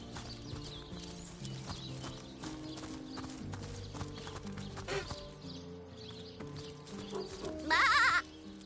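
Sheep in the video game Divinity Original Sin bleat amid clip-clopping hooves and game ambience, with a louder, harsher bleat near the end.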